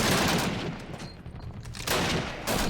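Rapid, dense bursts of gunfire from the retro Call of Duty game sound close and loud, with a short lull before a final heavy volley.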